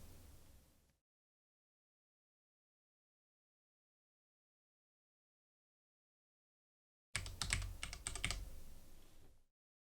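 Rapid keystrokes on a computer keyboard as a game name is typed, a close burst of clicky taps after a long stretch of silence, with a brief faint noise at the very start.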